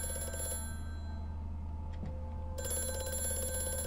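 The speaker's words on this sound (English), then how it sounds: "Phone." A telephone rings inside the horror video game Amnesia: A Machine for Pigs. The ringing is steady and tonal, with one pause partway through, and it plays over a constant low ambient hum.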